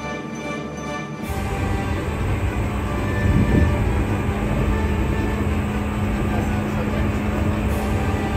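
Seibu railway train running on the Shinjuku Line, a steady interior rumble and rolling drone heard from on board, with a faint whine and a brief rise in noise midway.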